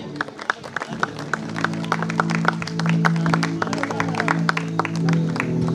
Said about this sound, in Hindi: हम सब लोग ताली मार के उनका स्वागत करें